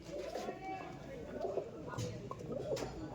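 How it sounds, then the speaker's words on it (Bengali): Andhra dragon-head pigeons with full crests coo softly in a loft, low murmuring calls recurring through the clip under steady background noise and faint voices. "সব ফুলশিরা আন্ধার পায়রা, সব ড্রাগন হেডের পায়রা।"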